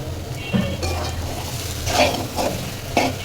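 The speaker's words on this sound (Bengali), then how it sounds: "এখন এটা আমি বারবার আস্তে আস্তে নেড়ে নেড়ে সিদ্ধ করে নেব" A mutton mixture for chops being stirred slowly in a pan over low heat, soft scrapes and muffled clinks spaced about a second apart over a low simmering hiss.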